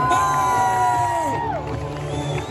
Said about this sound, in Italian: Le mani al cielo, iniziamo ad applaudire i protagonisti di questa grande festa